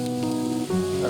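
Chopped onion drops into a hot frying pan for an Arabian-style macaroni dish, bursting into a steady, close sizzle that swells briefly as the pieces hit the oil.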